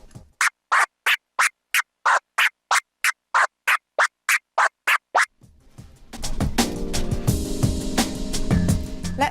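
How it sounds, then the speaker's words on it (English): A DJ controller works a dice scratch, tear strokes chopped by sharp fader clicks into a quick train of about fifteen clipped bursts, then a full, loud stretch of music with beat underneath. "The dice, or dicing, builds on the tear scratch by combining it with transform style fader clicks to create a more controlled, sharp sound."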